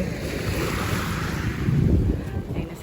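Waves washing on a beach at Sabangan with wind buffeting the microphone, a steady rushing surge that swells slightly midway.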